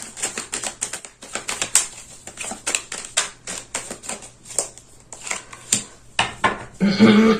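Tarot cards being handled and laid out on a table, rapid repeated crisp flicks and taps in quick bursts, close and clear, ending in a rustling shuffle.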